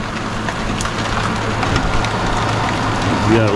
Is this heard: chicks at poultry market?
no